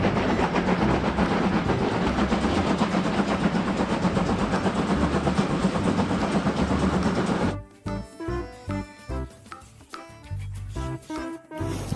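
A toy train locomotive runs with a steady, loud mechanical whirr for several seconds, then breaks into a looser pattern of clicking and rattling bursts, with no voices.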